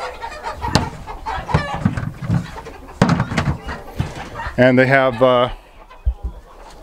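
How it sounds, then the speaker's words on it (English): A flock of black Ayam Cemani chickens in an open-fed farm coop clucks close by in scattered bursts, ending with one loud, drawn-out call, while a person talks over them. "They're all black chickens."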